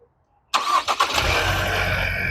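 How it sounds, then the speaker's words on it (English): A car engine starting after a moment of silence: a short cranking stutter catches and settles into a loud, steady idle, close by. "I'm going to start the engine."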